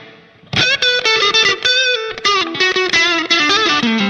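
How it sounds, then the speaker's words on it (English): Electric guitar played through a Line 6 Pod HD500 modeling a Fender Twin vibrato amp, set to a tight, clean distortion; punchy single notes and short phrases start abruptly after a brief silence and ring loud and close. "Kind of a more punchy, cleaner sound. It's a cleaner distortion"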